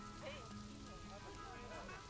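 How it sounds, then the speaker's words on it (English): Steady rain falls across a zoo in the video game Planet Zoo, a soft, continuous patter under a voice that talks the whole time. "It is raining."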